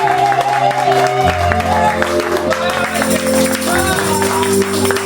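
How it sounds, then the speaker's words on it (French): A church congregation claps and cheers together during a worship service, with sustained applause and crowd noise mixed with loud voices and music-like tones throughout. "Acclamons mes frères et sœurs."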